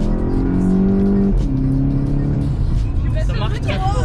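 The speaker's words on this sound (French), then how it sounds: "on va tester un petit départ arrêté, 0 à 100, c'est parti, plein gaz" A Volkswagen Golf 7 GTI launches from a standstill at full throttle, its engine note climbing steadily through the gears, loud and close from inside the cabin, with someone talking over it.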